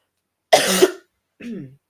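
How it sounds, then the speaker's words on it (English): Two sharp coughs, the first long and harsh, the second shorter and softer after a brief pause, close by with no talking. "I do apologize for all the coughing."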